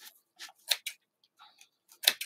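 Scissors snip hair loops in a few crisp, close cuts, quick clicks spaced irregularly in a quiet room.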